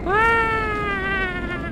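A single drawn-out cat meow in Minecraft, loud and close, with a rising then slowly falling whine lasting under two seconds.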